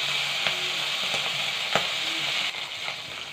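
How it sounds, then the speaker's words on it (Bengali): Close, continuous crackle of a hilsa fish head sizzling in hot oil, already browned on one side, with sharp pops and spatters breaking through the steady frying noise. "বন্ধুরা ইলিশ মাছের মাথাটা এক সাইড ভাজা হয়ে গেছে,"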